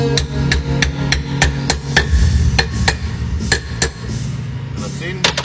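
A hammer gently taps a wheel bearing race into place on a flat surface, a steady series of a dozen or so sharp, ringing metallic knocks at even intervals, close and loud.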